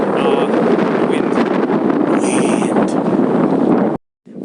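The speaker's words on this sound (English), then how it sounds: "Wait, if I go like this, the wind is not as powerful, right?" Strong wind buffets the microphone at a beach, a loud, steady roar with gusty swells that runs without a break and then cuts out abruptly near the end.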